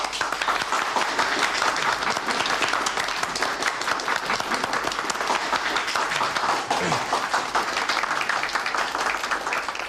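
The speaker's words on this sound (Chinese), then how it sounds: "鼓掌" Sustained applause from a gathered group at a meeting of test-flight brigade officials and invited experts, steady dense clapping throughout with no break.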